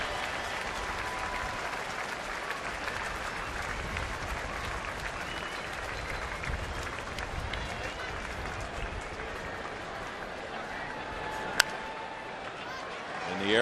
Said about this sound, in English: The customary standing ovation when they leave.